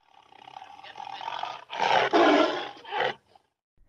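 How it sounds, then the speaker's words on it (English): A tiger gives a loud, rough roar in several surging bursts, building from a rising growl into a powerful close peak before cutting off into silence. "Tiger."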